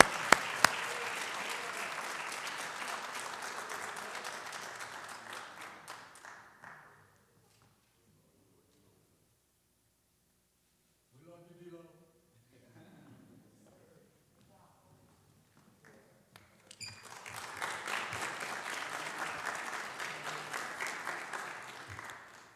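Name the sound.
audience applause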